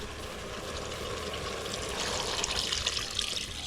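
Beef broth is poured into a hot cooking pot, making a steady, faint liquid rush with a sizzling texture that swells slightly toward the end, with no talk.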